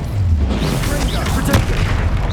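Casting the Incendio fire spell in Hogwarts Legacy brings a deep, rumbling whoosh of flame with a booming burst in the middle, loud and dense over game ambience.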